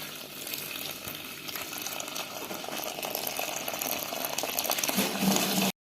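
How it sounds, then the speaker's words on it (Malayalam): Freshly boiled tea poured through a strainer into milk powder, a continuous hissing, bubbling pour that grows slightly louder before stopping abruptly, with no talk. "ഈ പാൽപ്പൊടിയിലോട്ട് ഈ തേയില അരിച്ചൊഴിക്കും"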